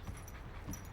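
A dog whimpers softly in a cartoon household scene, a brief, quiet, low whine over a steady background hum, with no one talking.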